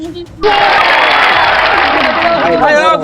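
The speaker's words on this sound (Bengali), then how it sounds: "জন্য একটা হাততালি" A crowd bursts into loud, sustained clapping and cheering for the winners of a water obstacle challenge with hanging rings and a bamboo bridge. The noise starts abruptly and stays dense and close to the end.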